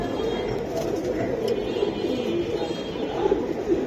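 Silver Giribaz pigeons, a breed flown over rooftops, coo steadily and close by as a low rolling murmur from several birds, over a busy background hum.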